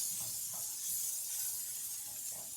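Chicken pieces in a pan give off a soft, continuous sizzling hiss, steady and fairly quiet, with faint kitchen clatter underneath and no talking.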